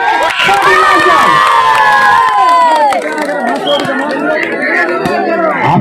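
A crowd at a volleyball final match cheers and shouts loudly and steadily, with excited voices and children's shouts layered over one another throughout.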